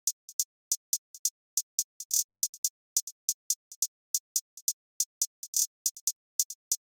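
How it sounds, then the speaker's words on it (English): UK drill hi-hat pattern programmed in FL Studio 20: crisp, bright ticks in a bouncy syncopated rhythm with quick rolls scattered through, heard alone and fairly quiet with no other instruments. "So the hi-hats ended up sounding like this."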